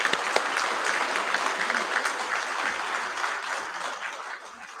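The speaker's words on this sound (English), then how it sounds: "Let's give this group of students a round of applause." A round of applause for Year 12 and 13 students at a school prize-giving assembly, steady clapping from a large audience in a hall, sustained and fairly even before easing off slightly at the end.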